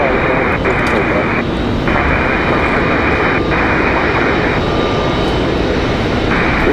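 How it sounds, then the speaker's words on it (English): A Republic Airways Embraer E-175 jet arriving from Washington Dulles touches down at Raleigh-Durham International, its engines roaring loudly and continuously throughout. "we've got Republic Airways 3643 about to touch down from Washington Dulles"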